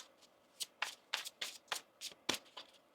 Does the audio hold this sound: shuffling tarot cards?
yes